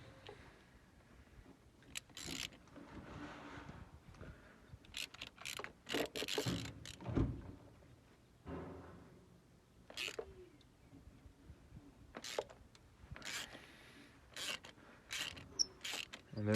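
Ratchet on an extension loosening a spark plug on a 2011 Ford Fusion 3.0L V6, heard as intermittent close clicking bursts with pauses between pulls.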